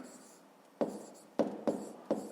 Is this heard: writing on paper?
yes